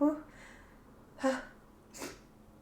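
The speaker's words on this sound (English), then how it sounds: "oh, I have a sneeze coming." A single sharp sneeze bursts out after a brief voiced intake, followed by a softer breathy snort, close and quiet.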